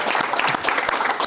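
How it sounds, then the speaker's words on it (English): An audience claps for Jose, a steady burst of applause filling the room at close range with no talk over it. "So clap it up for"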